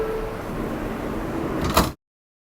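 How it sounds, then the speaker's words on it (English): Doors on an R160 subway train slide shut over steady car rumble, ending in a brief louder thump or chime as they close. "Stand clear of the closing doors"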